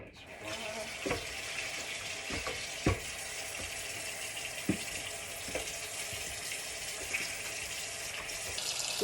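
Tap water running into a kitchen sink to fill a bowl of pork neck bones, a steady broadband rush with scattered clinks and knocks from dishes and meat as it fills.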